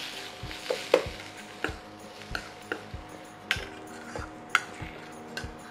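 Onions with ginger garlic paste fry on an induction stove under a soft sizzle, while a spoon taps and scrapes the pan in a steady, repeated stirring rhythm, close and fairly quiet.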